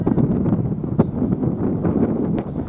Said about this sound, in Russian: Какой сильный ветер.